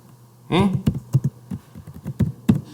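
A computer keyboard is typed on while coding a C# Windows Forms app in Visual Studio: a dozen or so close, crisp key taps in an uneven rhythm, with a short murmur of voice near the start.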